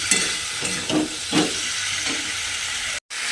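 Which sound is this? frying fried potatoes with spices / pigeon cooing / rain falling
frying fried potatoes with spices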